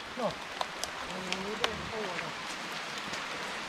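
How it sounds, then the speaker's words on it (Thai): Rain pours down on a hilly jungle off-road route in an even, dense patter. Someone talks over it, and scattered small knocks rise above the downpour. "ฝนก็ตกฝนก็ตก"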